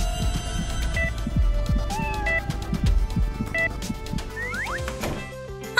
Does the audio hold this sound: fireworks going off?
no